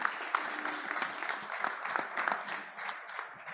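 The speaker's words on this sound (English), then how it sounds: "Thanks for the final speech, and please applause for Evangelos" An audience at a startup pitch event in Hamburg breaks into applause after a final pitch, with dense, lively clapping that stays steady throughout without talk over it.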